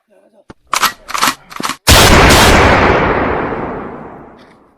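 A loud, close blast bursts out and rumbles away over a few seconds, after short bursts of shouting voices.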